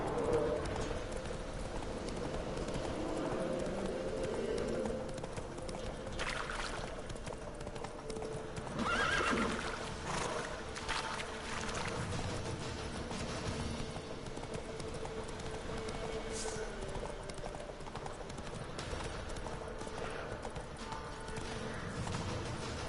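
Horse hooves clip-clop in a steady walking rhythm within The Witcher 3, fairly faint and continuous, with occasional snorts or whinnies and light ambient bird sounds in the background.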